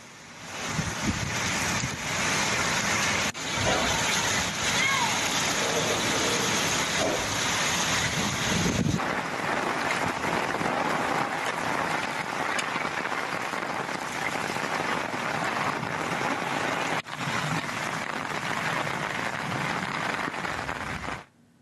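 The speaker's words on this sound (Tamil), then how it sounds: "மாலை நேரத்தில் பலத்த இடியுடன் கூடிய ஆலங்கட்டி மழை பெய்ததால் தாழ்வான பகுதிகளிலும் தண்ணீர் பெருக்கெடுத்து ஓடியது" Heavy rain and hail pour down steadily during an evening hailstorm with strong thunder that flooded low-lying streets, a dense, continuous roar throughout with no talk.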